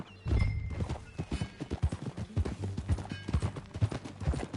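Hooves clip-clop in a quick, uneven trot in Red Dead Redemption II, loud and close, with a brief snort among the hoofbeats.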